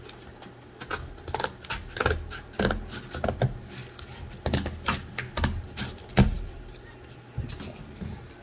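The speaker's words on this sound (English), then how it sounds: "I'm going to take my scissors and just make a square" Scissors snip through balloon material to cut out a square, a run of short crisp cuts at irregular intervals, close up with no talking.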